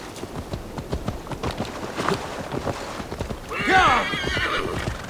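A horse in Assassin's Creed Valhalla gallops with rapid, steady hoofbeats, then lets out a loud, close neigh over faint wind.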